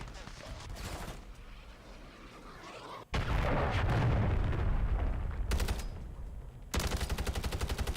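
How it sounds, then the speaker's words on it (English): Cruise missile strike in Call of Duty Modern Warfare 3: gunfire first, then a sudden loud blast around three seconds in with a long roaring rumble, followed by further bursts of rapid machine-gun fire. "Hostile launched a cruise missile."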